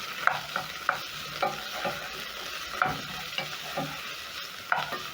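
Onions, garlic and ginger fry in rendered pork fat in a pot, a steady close sizzle broken by several sharp scrapes and clinks of stirring at uneven intervals.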